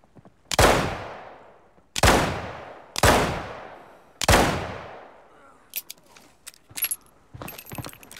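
Four heavy revolver shots ring out one by one with decaying echoes in the shooter game Arena Breakout, followed by softer clicks and clatter of handling, close and loud.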